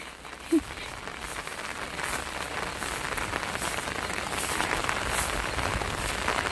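Steady, dense rainfall pattering on surfaces all around, with a single brief thud early on.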